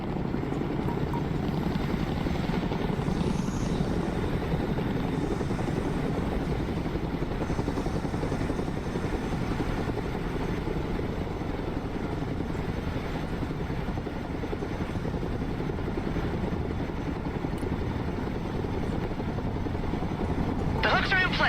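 A cargo helicopter drones loudly and steadily with a continuous rotor and engine roar that never lets up, heard close throughout with a voice underneath.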